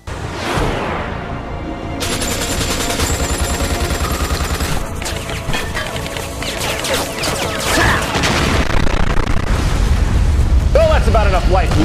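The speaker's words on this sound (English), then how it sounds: "Did we really need these fucking explosions?" Explosions in a Metal Gear Solid: The Twin Snakes video game cutscene, a series of loud booms and blasts with dense, layered bursts and game music and effects running under them.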